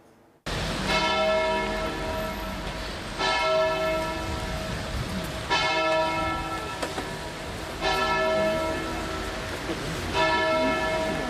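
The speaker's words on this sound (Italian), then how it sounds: "Rintoccano le campane" Church bells toll at a funeral in Campodarsego, in rain, with rich harmonic peals in slow, regular strokes about every two and a half seconds, resonating and overlapping, close and steady throughout.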